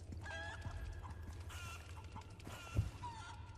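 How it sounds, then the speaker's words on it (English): Chickens cluck softly in the Resident Evil 4 Remake game, with short scattered clucks and calls over a quiet background and one brief low thump. "The chicken's running around."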